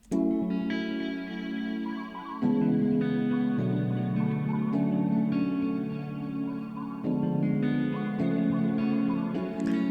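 A mellow R&B-style instrumental with sustained chords, guitar, and chopped, effected vocal snippets changing every couple of seconds.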